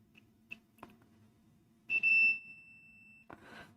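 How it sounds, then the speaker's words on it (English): A multimeter gives a steady continuity beep lasting about half a second, high and clear, among faint clicks and quiet handling noise. "And we've got the beeps."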